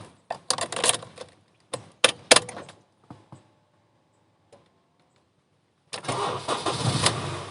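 A 2007 third-generation Honda CR-V is started: clicks and knocks of key handling, a brief quiet crank, then the engine catches and settles into a smooth, close idle.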